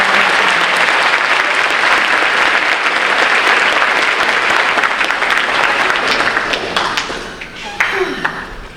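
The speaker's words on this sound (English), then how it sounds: "Can we give one more round of applause for Ms. Lowenthal?" A crowd at an 8th grade graduation ceremony gives Ms. Lowenthal a loud, sustained round of applause that thins out near the end into scattered claps and a few light taps.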